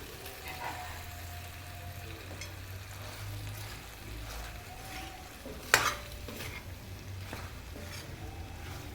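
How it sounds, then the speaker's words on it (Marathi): Pasta with tomato sauce is stirred in a pan over a gas flame, giving a soft, steady sizzle with scraping spoon strokes and one sharp clink of a utensil against the pan. "आता मी यामध्ये पास्ता टाकते टमाटा सॉस टाकते"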